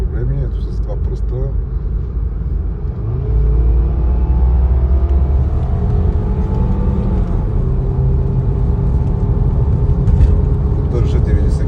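A 1998 Ford Scorpio with a 2.3-litre engine climbs a hill at 90 km/h, its steady low engine drone and road rumble filling the cabin throughout, with a voice talking over it.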